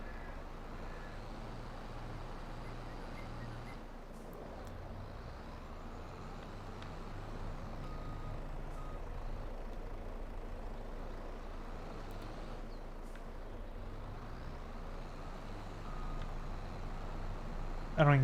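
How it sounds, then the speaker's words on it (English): A heavy farm vehicle engine drones steadily in Farming Simulator 22, with faint reversing beeps, moderately quiet and continuous with slight rises in revs. "It's like a monster truck."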